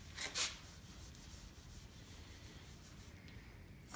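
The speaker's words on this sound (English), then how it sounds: "you're supposed to put a small amount onto the microfiber cloth and rub it" A microfiber cloth rubs Meguiar's PlastX cleaner into a cloudy plastic car headlight, giving a soft, close, continuous scrubbing hiss with a couple of louder strokes at the start and no talking.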